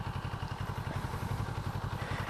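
A CFMOTO 650NK parallel-twin motorcycle idling at a standstill, a steady low, throbbing pulse with fast even beats, close and continuous, with no talking.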